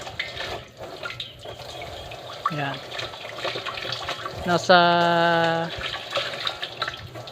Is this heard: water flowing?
yes